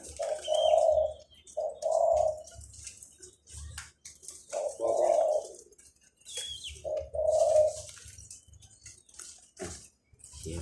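A baby wild bird fallen from its nest calls in repeated short cooing bursts, about five separate calls spaced by pauses, close and clear against quiet background.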